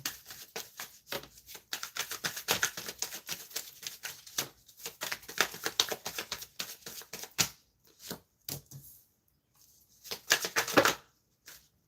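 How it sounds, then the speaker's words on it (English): A deck of tarot cards is shuffled by hand in rapid riffling bursts of crisp papery flutters, close and fairly quiet, with short pauses between shuffles and a final flurry near the end; no one speaks. "I want to make sure I shuffle these cards right so I'm not pulling the same cards."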